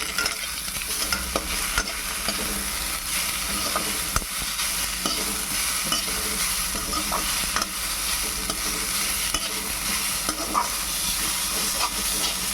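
Grated potato and semolina sizzle and fry in a pan on the stove, with a constant hissing bed of frying and occasional scraping clicks of a spoon stirring, close and steady throughout.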